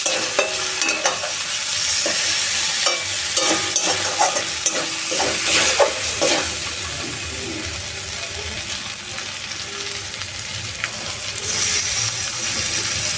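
A tomato and ginger masala for a chicken liver dish fries in a pan while a spoon stirs and scrapes it in repeated strokes over a constant sizzle, with some wet, watery sounds and no speech.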